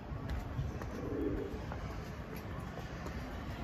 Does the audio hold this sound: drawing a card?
no